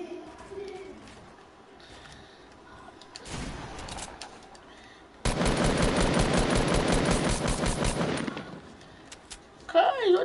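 Video game AR rifle fire comes in two bursts, a short one and then a long, loud stream of rapid shots. Quieter stretches with faint voices and game noise fall between and around them.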